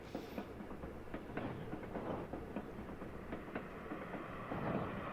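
In the video game Little Witch in the Woods, a train ride gives a steady rumble with faint rhythmic clicks from the rails, continuous and moderately quiet with no talking.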